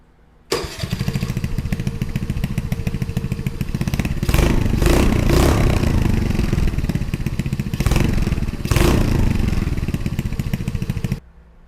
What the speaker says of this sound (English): we have the baffle still inside the exhaust, so I figured we would start it up